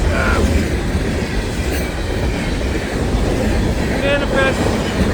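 An FEC freight train rolls past on the rails, its loud, steady rumble and wheel clatter filling the clip, with faint wheel squeal partway through and some talk underneath.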